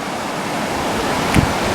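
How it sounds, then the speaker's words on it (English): A river flowing beside a road, a steady broadband rushing wash heard loud and close, with a short thump of wind buffeting near the end. "Oh, another river."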